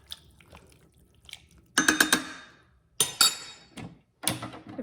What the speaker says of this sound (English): I'm gonna stir that around.